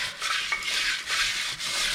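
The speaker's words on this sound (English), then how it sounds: "the best way to clean it, you can just use water and a brush" Rhythmic scrubbing of a stiff brush against a cast iron frying pan with water, several quick back-and-forth strokes with wet rasping, close and clear.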